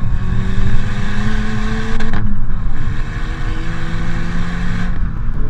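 Hyundai i30 N hot hatch engine and exhaust, a loud close droning rev with rising and falling pitch, a brief lift in the middle and steady throttle after, with no talking.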